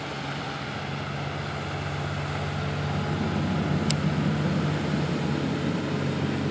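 Steady low boat motor drone runs throughout while fishing for snakehead bass, a constant hum with broadband wash on top, fairly close and unbroken.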